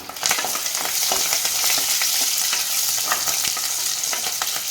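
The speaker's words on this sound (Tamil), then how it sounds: "ஒரு 10-12 பல் பூண்டு நீளமாக நறுக்கி வச்சுருக்கேன், அதை சேர்த்துக்கலாம்." Ten to twelve cloves of lengthwise-sliced garlic hitting hot oil with curry leaves in a pan for sundakkai kuzhambu, a loud, bright continuous sizzle with scattered crackles and pops throughout, no talking.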